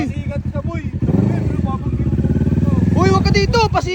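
A loud Kawasaki Z650 motorcycle engine revs and rumbles close by with a throaty, pulsing exhaust, while several people talk over it.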